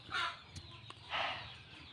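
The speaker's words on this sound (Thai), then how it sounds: "ตอนนี้ไก่มันไม่ยอมหยุดเลยนะครับ" Chickens clucking in a Minecraft survival game, two short bursts of clucks separated by a brief pause, moderately close and fairly quiet, with no talking.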